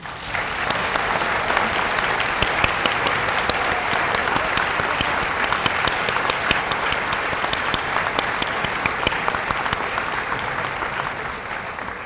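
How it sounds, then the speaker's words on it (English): A large audience at a veterinary white coat ceremony gives long, steady applause, a thick continuous roar of many clapping hands with sharp individual claps poking through, holding evenly before easing off at the end. "Let's give our elk a round of applause"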